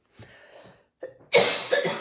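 A person coughs a few times close up, short harsh bursts with brief pauses, the last one louder and raspier.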